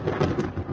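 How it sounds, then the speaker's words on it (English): Thunder rumbles overhead during a spring thunderstorm, a loud, close, rolling series of low booms with rain noise mixed in, over less than a second. "We had this big crack of thunder over the top of us"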